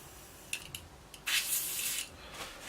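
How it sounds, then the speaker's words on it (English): Airbrush spraying out a short burst of airbrush cleaner: a few brief hissy puffs, then a steady close hiss of about a second, alone without talking. "we spray a little bit out, and that will clean that airbrush"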